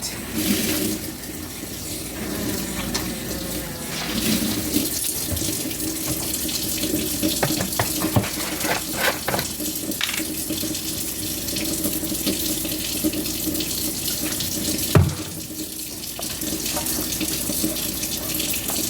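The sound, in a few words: hot water running from kitchen tap into sink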